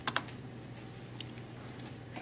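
Computer keyboard typing during a spreadsheet session: a couple of quick close key taps near the start, then sparse faint clicks spread over a quiet background.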